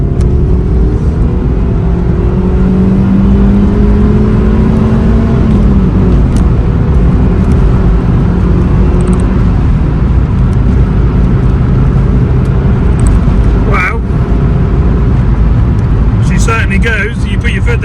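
A 1.5-litre Suzuki Swift VVTS GLX accelerating hard along a straight stretch of main road, its engine droning loudly and rising in pitch through the gears over continuous road roar, heard from inside the car.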